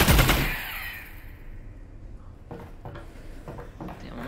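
Gunfire in Half-Life: Alyx opens with a loud, short burst of shots, then falls to quiet with a few faint clicks and clunks of weapon handling.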